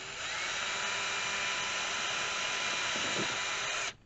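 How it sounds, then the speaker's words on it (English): A power drill bores a hole through a recycled metal food can, a steady high-pitched whine held for about four seconds before cutting off abruptly, loud and close with no talking. "So just mark on each side and then drill a hole."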